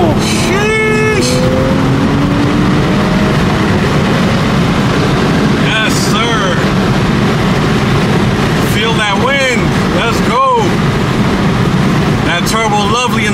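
A turbocharged car accelerates on an open road on a cold morning, a loud steady engine drone throughout with rising gear pulls, while someone talks over it.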